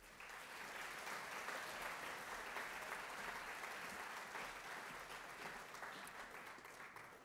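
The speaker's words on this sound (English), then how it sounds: "Let's give them all another round of applause." Sustained applause from a large audience at a 4-H awards ceremony, steady and dense throughout, moderately loud with no one speaking over it.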